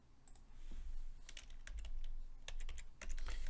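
Typing on a computer keyboard to write classical Greek text, with light, irregular key clicks close by in short clusters against a quiet room.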